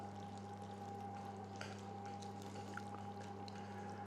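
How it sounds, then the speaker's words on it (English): Milk being poured steadily into a bowl, a soft continuous trickle over a low constant hum, with no talking. "175 ml of milk, which I'm going to pour in there"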